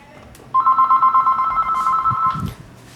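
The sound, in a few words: phone ringing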